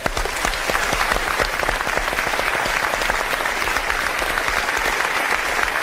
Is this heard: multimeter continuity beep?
no